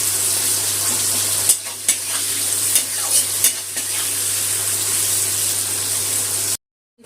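Chopped onion frying in oil in a pan, a loud, continuous close sizzle with a low steady hum beneath and a few stirring knocks, cutting off abruptly near the end.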